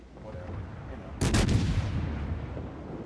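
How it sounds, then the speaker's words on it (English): Naval guns firing a salvo in a warship video game, a sudden heavy boom with a few rapid overlapping blasts that roll into a long rumbling decay over low background noise. "I'm firing wide because I want to cover as much area as possible."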